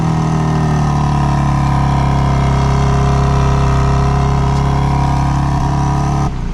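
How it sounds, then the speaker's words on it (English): A 2024 BMW M3 Competition xDrive idles steadily after a remote start, its quad-tip dual exhaust holding a deep, even rumble, loud and close with no talk, before cutting off abruptly near the end. "that quad tip dual exhaust setup, which we can take a listen to because this does have remote start"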